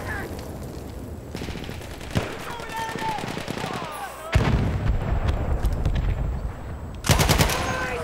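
Artillery and heavy gunfire from a First World War battle in Battlefield 1, set at the Meuse-Argonne offensive: rapid machine-gun bursts rattle throughout, broken by loud, close booming blasts at intervals.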